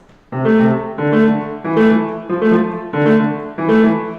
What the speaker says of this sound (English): And then the right hand rapid 16 notes is like this.